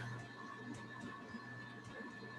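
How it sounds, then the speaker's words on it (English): A loud air conditioner runs indoors, giving a steady, even hum and whir with a faint tonal drone and no breaks, fairly quiet overall and with no speech over it. "let me turn off this air conditioner down here that's really loud"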